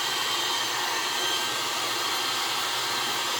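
A heat gun blows a steady, even rushing hiss from a distance onto a lifting vinyl hood scoop overlay decal on a 2024+ Tacoma or 2025+ 4Runner, continuous and close with no talk.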